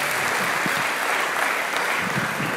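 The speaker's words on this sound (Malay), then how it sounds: "Beri tepukan semua." An audience at a state-level Malay speech contest in Johor applauds a participant, a thick, steady wash of clapping that stays even for a couple of seconds.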